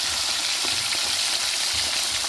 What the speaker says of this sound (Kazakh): осы балығымыз осылай қуырылып болғаннан соң екінші жағы мынандай қызарады